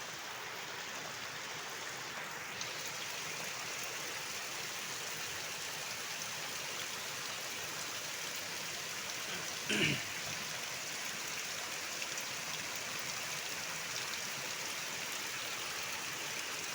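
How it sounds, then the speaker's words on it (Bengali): Heavy afternoon rain falls as a steady, even hiss, soft and somewhat distant, with one brief thump partway through. "এখন জোর বৃষ্টি।"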